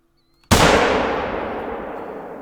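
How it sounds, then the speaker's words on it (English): A single rifle shot at a bull moose in theHunter: Call of the Wild, a sudden loud crack after near silence that rolls off into a long fading echo. "we're going to see if we can't take a shot through this grass here"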